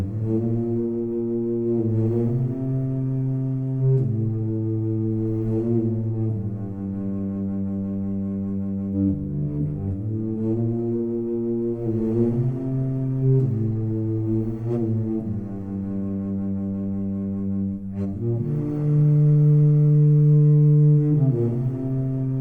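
Sampled contrabass flute playing a slow, low sustained melody of long held notes, with breathy air noise swelling as the breath control is raised, loud and close with no talking.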